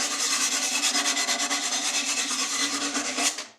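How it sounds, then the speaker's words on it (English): Glass fish tank edges are polished by hand, with fast, even rubbing strokes in a continuous rasping rhythm that stop abruptly at the end. "I'm fine-tuning the manual polishing."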